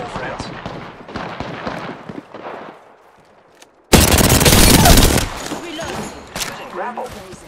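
Automatic weapon gunfire in the video game Apex Legends: a loud, dense burst of rapid shots lasting just over a second, with game sounds and a voice talking before and after it.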